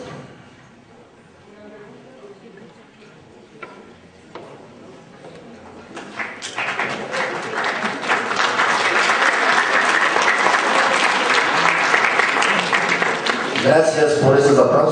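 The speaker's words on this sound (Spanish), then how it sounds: "Gracias por esos aplausos, se escuchó hasta la esquina de acá." An audience at a conversatorio on constitutional and legal principles bursts into loud, sustained applause after quieter early moments. The clapping swells and continues to the end, with speech faint beneath it at the start.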